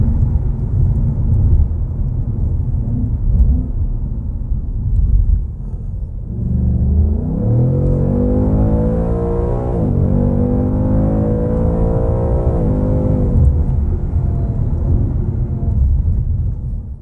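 A 2021 Ford Mustang Mach 1 engine rumbles low and steady, then revs up loudly with rising, sweeping tones through the middle before settling back to a deep idle.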